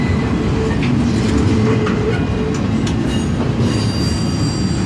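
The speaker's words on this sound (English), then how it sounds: "This is actually kind of a cool train." A freight train with logging cars rolls past up close and loud in Wyoming, wheels squealing and clattering continuously over the rails.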